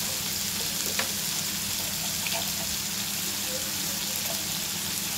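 Chopped onion with turmeric and salt frying in a pan, a steady close sizzle with occasional soft scrapes of stirring running evenly through the clip.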